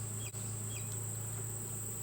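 Honey bees buzzing around an open hive while a honey super is added above a queen excluder and two full boxes, a faint steady drone with a constant high whine and no talking.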